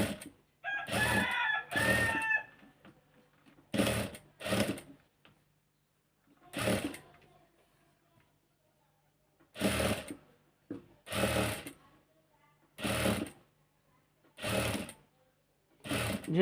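A sewing machine runs in short repeated bursts while stitching a double seam on lace for a dress neckline, each whirring run separated by pauses of near silence.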